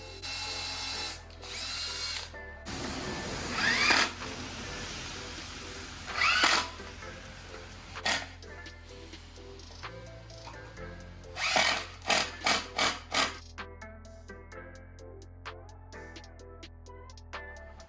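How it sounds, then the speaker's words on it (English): A power drill drilling pilot holes in wood whirs in repeated bursts, some long, then a quick series of short rapid pulses, with quiet clicks and handling noises between. "Now we're gonna go ahead and drill some pilot holes, then install our pieces of wood with some screws"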